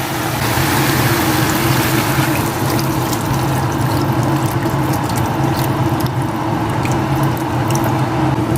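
Water pours steadily into a pot of cooking chicken, a continuous close rushing and splashing that stays loud and even throughout with no talk.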